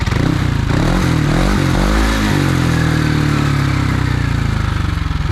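A Yamaha N-max155 scooter on its stand is revved close up, the engine pitch climbing and falling in loud, rough surges over a constant mechanical clatter.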